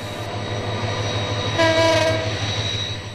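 A train rumbles steadily with a rhythmic low pulse, running from Kamalapur via Tejgaon and Banani toward Airport station, and a loud horn sounds partway through, close by.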